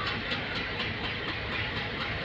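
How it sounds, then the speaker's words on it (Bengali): A train pulls away on the New Coochbehar to Bamanhat line, a steady close rumble of wagons and running gear with faint clickety-clack from the rails, continuous throughout. "ট্রেন ছেড়ে দিয়েছে"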